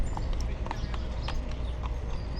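Carriage horses clip-clop along a Central Park road in New York City in spring, hoof strikes landing in a steady, close rhythm over the constant hum of the park.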